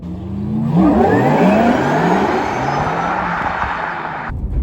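A 2.3-ton Porsche Taycan 4S electric car accelerates hard on a bumpy road, its motor whine rising steadily in pitch over loud road and tire rumble heard from inside the cabin.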